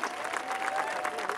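A crowd at the Fiesta del Cordero in San Jaime breaks into applause, a fairly soft, continuous patter of many hands with a faint steady tone running underneath.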